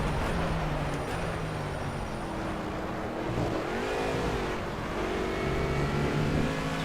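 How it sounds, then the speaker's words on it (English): An Aston Martin V8 Vantage GT4 race car in Project CARS revs hard at Zolder, its engine note climbing and wavering as the wheels spin, a steady loud roar with rising pitch sweeps. "Get some wheel spin there."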